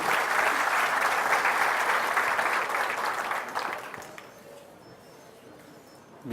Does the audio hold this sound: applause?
yes